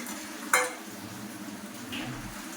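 Chicken with fried potatoes is stir-fried in a pan, a soft steady sizzle under one sharp clink of a spatula against the metal and a fainter scrape a moment later.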